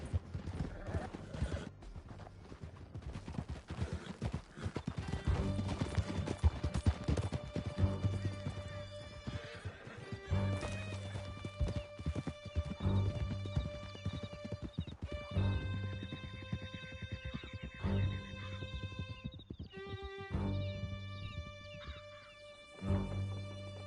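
Horses galloping in the Red Dead Redemption II video game, a fast continuous clatter of hooves with neighs, music and voices from the game layered over the ride.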